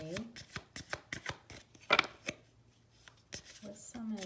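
Tarot cards being shuffled and laid down in a series of crisp riffling and slapping bursts, close and moderately loud, with a short pause midway and brief voice sounds near the end.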